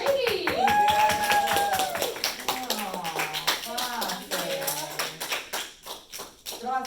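Classmates clap for a student in a language classroom, a short burst of applause mixed with children's chatter and an adult speaking over it, with sharp hand taps scattered throughout.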